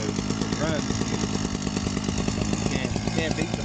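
A PROYAMA 42.7cc 5-in-1 gas trimmer's carbureted two-stroke engine runs steadily at high revs, a loud buzzing rattle close by with slight fluctuations throughout.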